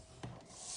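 A scoring tool drawn along paper for an explosion box base, a brief close scraping rub that swells near the end, quiet and alone.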